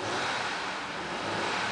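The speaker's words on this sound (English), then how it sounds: "I'm gonna rev the engine now." A 2007 Honda Odyssey EX-L van's engine revs up close, a brief, loud, steady mid-pitched whir with no voices over it.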